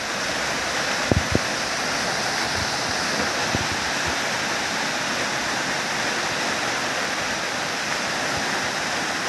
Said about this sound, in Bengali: বিশাল বড় ঝর্ণা, মাথা উঁচু করে দেখতে হচ্ছে যা অবস্থা।